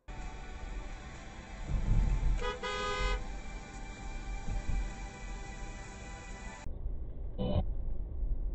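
A car horn honks in traffic, first a sustained blast of under a second, then a short toot a few seconds later, over a steady road and engine rumble.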